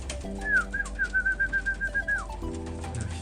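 Racing pigeons arriving at a loft landing board during a race, with a sustained warbling whistle-like coo and bird calls rising over low rumbling background noise.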